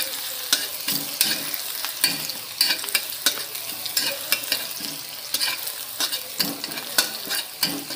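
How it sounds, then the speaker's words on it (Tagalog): Onion and garlic sauté in a pan for Szechuan fried rice, a loud, continuous sizzle punctuated by frequent quick spatula scrapes and taps against the pan, close up. "So, gigisahin na natin, guys, yung sibuyas at saka bawang"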